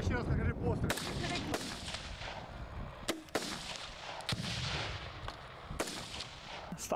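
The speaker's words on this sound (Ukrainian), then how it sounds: "Давай ще раз покажи постріл." During a training session for Ukrainian soldiers on US-supplied weapons, several sharp gunshots crack out at irregular intervals, fairly distant and quiet, each followed by a brief rumbling echo.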